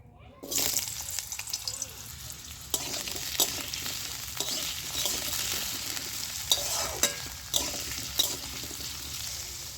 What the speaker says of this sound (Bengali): তেলটা গরম হয়ে গেছে, তেলের মধ্যে এবার আমি আলুগুলো দিয়ে দিচ্ছি